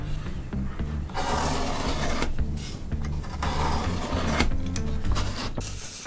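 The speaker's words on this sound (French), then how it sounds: "Tu commences par tracer sur ta planche le trait de coupe." Pencil drawing a cutting line on a wooden board, a close, continuous scratchy rubbing in several strokes separated by brief pauses, with no talk.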